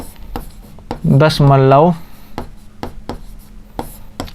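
A hand writes decimal numbers during a Class 6 maths lesson, making crisp taps and short scratches spaced through the clip, close and clear, with a teacher speaking briefly early on.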